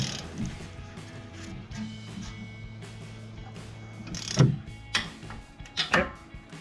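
A torque wrench tightening a sway bar link bolt on a Jeep Gladiator JT: low mechanical ratcheting and creaks, then a few sharp metallic clicks near the end as the wrench reaches torque, close and fairly quiet.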